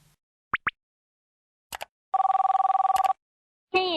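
Telephone tones at a Korean broadcaster's viewer desk: two quick chirps, a short burst, then a long pulsing electronic ring followed by another rising tone, loud and isolated against silence.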